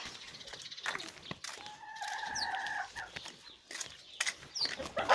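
Chickens cluck and squawk nearby in short irregular bursts, with a drawn-out call in the middle and some background rustling.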